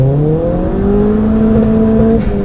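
A 310 bhp Ford Fiesta ST pulls hard in second gear, its engine note climbing steadily and loudly through the revs with a gruff, continuous drone close by, no talk over it.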